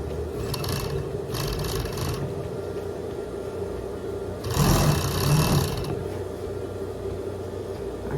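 A sewing machine sews the side seam of a raglan jumpsuit in short bursts of close, rattling stitching: two quick runs early on and a longer, louder run midway, over a low background hum.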